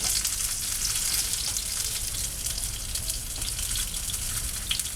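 Salmon fillet frying in a pan until crispy, with a steady close, dense sizzle and crackle running throughout at even loudness, no voices.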